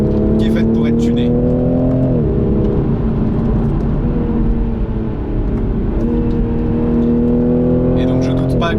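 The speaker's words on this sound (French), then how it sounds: "Ça reste un moteur turbo compressé. On a un petit son à l'échappement sympa" A Toyota GR Supra 3.0 with a turbocharged engine hums and rises through revs, its exhaust note swelling and dropping with gear changes, loud and close, with someone speaking over much of it.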